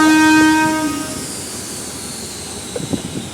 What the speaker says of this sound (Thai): รถเร็วเที่ยวขึ้นวันที่หนึ่งหนึ่งหนึ่งออกจากสถานีบ้านตะคีไปแล้ว